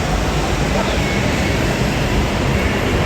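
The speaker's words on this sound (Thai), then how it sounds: "ที่ได้มานั่งรถไฟฟ้าครั้งแรกในชีวิตเลย" Steady dense rumble of an electric sky train ride, a continuous broadband roar with low-end rumble and hiss throughout, loud and close with no clear breaks.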